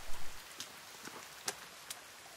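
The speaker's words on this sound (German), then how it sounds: "Regen ist schön. Scheiße, Regen." Soft rain in the survival game The Forest, a steady hiss with a few scattered louder drop taps, fairly faint and with no voices.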